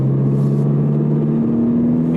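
A car in sport mode with traction control off accelerates up a ramp, its engine a steady loud droning rumble with a strong low tone held throughout, close and continuous with no talk.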